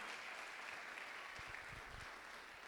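A church congregation claps during a sermon, producing a faint, distant, continuous patter of applause that holds steady for under three seconds.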